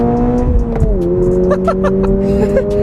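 A Toyota GR86 sports car engine with manual transmission holds a steady high-pitched whine, dipping briefly and then climbing again, with faint clicks and ticks on top.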